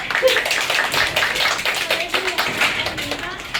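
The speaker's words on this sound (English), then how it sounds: "Clap for her." A class of students claps for a classmate, a brief scattered round of close hand claps with a teacher's voice and student voices over it.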